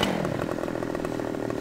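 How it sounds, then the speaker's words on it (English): A chainsaw cutting trees in the farming video game Farming Simulator 15 runs loud and steady, a continuous buzzing engine drone with no talk over it. "So with the chainsaw,"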